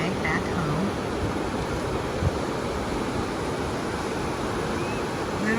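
Ocean surf rolling onto a beach at the Outer Banks, North Carolina, on an overcast day, a loud continuous roar of breaking waves with wind rushing over the microphone.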